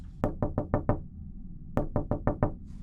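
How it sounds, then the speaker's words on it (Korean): Someone pounds hard on a room door: two quick bursts of five loud, evenly spaced knocks separated by a short pause, with no talking. "누가 방문을 세게 두들겼습니다."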